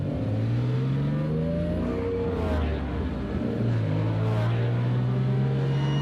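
Diecast toy cars racing downhill on a track, carrying a continuous whirring, engine-like rolling drone with rising and falling pitch sweeps, loud and close.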